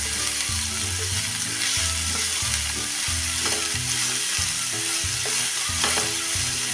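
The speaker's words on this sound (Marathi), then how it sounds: "त्यामध्ये आता हे किसलेला मुळा टाकून घेऊया। आणि हा चांगला आपण परतून घ्यायचा आहे।" Grated yellow radish sautéing in a pan after green chillies and curry leaves, a steady loud sizzle running throughout with rhythmic stirring scrapes layered on top.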